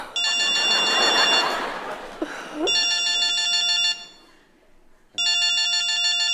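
A phone ringtone plays in repeated electronic bursts, loud and close, with a brief pause between rings and a short voice sound in the gap.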